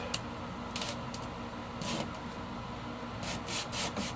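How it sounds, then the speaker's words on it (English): Coarse 80 grit sandpaper rubs against a part of a Martin DR rosewood guitar in short, close, repeated scratchy strokes over a faint steady background hum. "I got some 80 grit sandpaper here, and we're going to do just that."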